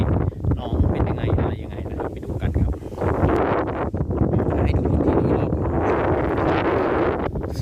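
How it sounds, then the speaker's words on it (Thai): Strong wind blows across open Thai farmland as rain approaches, gusting and buffeting loudly into the microphone as a rough, continuous roar that surges and dips for several seconds. "ลมอาจจะแรงนิดนึงนะครับ เพราะว่า ตอนนี้ฝนกำลังจะตกนะครับ"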